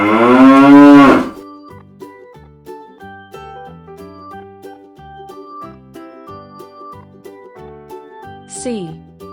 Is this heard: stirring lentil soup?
no